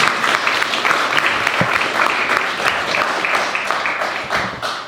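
Audience applause at a talk at Tin Mountain Conservation Center, steady dense clapping from a sizeable crowd for about five seconds, fairly loud and sustained without a break.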